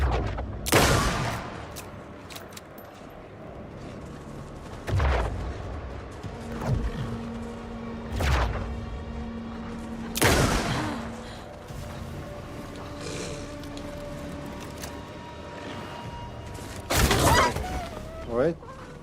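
Rifle shots ring out in the video game Alan Wake II, several sharp, loud cracks spaced a few seconds apart, with mechanical clicks and rattles between them.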